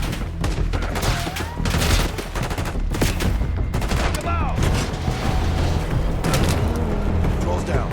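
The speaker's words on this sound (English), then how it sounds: "Exchanging fire!" Dense gunfire exchange in Call of Duty: Black Ops 6, with rapid automatic bursts and heavy booms filling the whole stretch, loud and close, while voices talk over the shooting.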